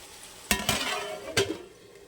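A spoon scrapes and knocks around a pan of ivy gourd curry in a few quick strokes, with a soft sizzle underneath.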